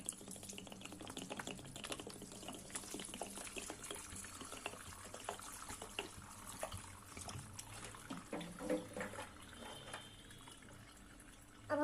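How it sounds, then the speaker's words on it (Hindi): Cold water is poured over strained boiled chow mein noodles in a home kitchen, a soft, steady trickle and splash under faint clicks and handling noises, quiet and close with no talking. "चलिए ठंडा पानी ऐड कर देते हैं।"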